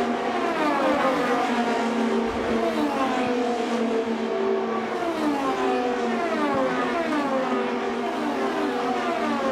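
IndyCar race cars at the 2018 Indianapolis 500, with engines whining and sweeping in pitch as cars slow through pit lane, a continuous loud layered drone of several cars close by.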